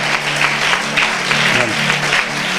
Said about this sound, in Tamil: அப்ப இயேசுப்பா தருகிற திவ்ய சமாதானத்துக்கா ஜோர ஒரு கைத்தட்டு கொடுத்துருங்க பார்க்கலாம